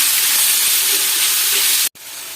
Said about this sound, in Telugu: బీట్రూట్ని వేసుకొని పచ్చి వాసన పోయేంత వరకు ఫ్రై చేసుకోవాలి ఆయిల్లో.